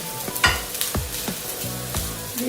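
Cumin and turmeric sizzle in hot oil along with okra, with several sharp spatula stirs and scrapes cutting across a steady crackling fry, close and fairly quiet.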